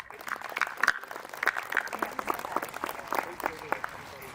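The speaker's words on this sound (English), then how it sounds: "A round of applause for our students." Outdoor high school graduation crowd at Oley Valley giving a round of applause for the graduating students: scattered, moderately quiet clapping from many hands, uneven and somewhat distant.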